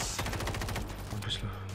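Rapid machine-gun fire from a helicopter in a zombie video game set in Moscow, a dense stream of repeated shots at close range with a low engine drone underneath.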